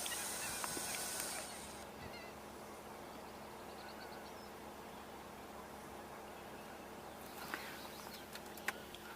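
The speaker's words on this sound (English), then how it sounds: "those are the common gallinules that you're hearing." Common gallinules calling at a distance from marsh, their chattering, monkey-like cries faint over steady outdoor ambience, with a few sharper calls near the end.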